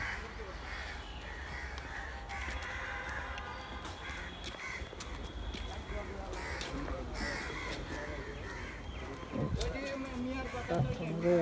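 Crows caw repeatedly at Azimpur graveyard in Dhaka, harsh calls recurring through outdoor ambience while someone talks nearby.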